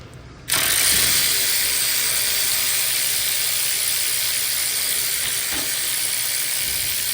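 A ratchet works on a 13 mm bolt during a downpipe install on an Acura TLX Type S, a loud, fast, steady clicking that starts abruptly and continues without a pause.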